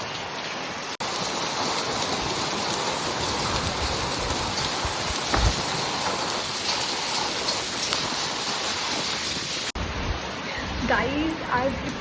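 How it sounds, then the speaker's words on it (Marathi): Heavy rain with hail pours down on a terrace, a dense, steady hiss of water with scattered sharper impacts, loud and close; a person talks briefly near the end. "आज इतका पाऊस पडतो ना इकडे आणि गारा पण पडताय"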